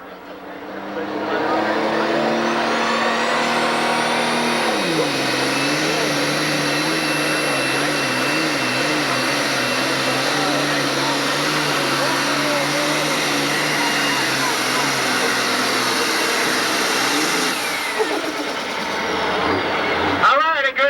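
A John Deere pulling tractor with three turbochargers roars loud and steady through a 1996 Freeport, Illinois tractor pull, its pitch dipping early and holding before cutting off near the end, with an announcer talking over it.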